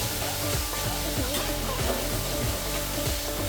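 Ginger garlic paste sizzles in a hot pan while being stirred, a loud continuous crackling hiss broken by scraping strokes of the spoon.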